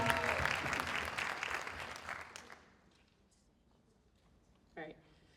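Audience applause at a Women's Equality Day event, a dense burst of clapping that fades out after a couple of seconds, followed by quiet and a brief voice.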